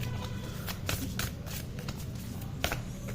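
Tarot cards are handled and drawn from the decks, giving soft papery riffles and slides in short bursts against a steady background hiss, close and moderately quiet.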